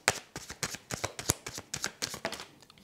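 Tarot-style cards are shuffled by hand in quick, rhythmic riffles, a steady series of crisp slaps and flutters at close range, with no talking.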